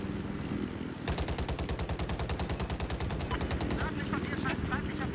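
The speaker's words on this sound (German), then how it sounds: "Wer hat auf uns geschossen?" Battlefield 4 multiplayer gunfire on the Silk Road map: a long, steady burst of rapid automatic fire, loud and close over constant background rumble, followed by a few scattered shots.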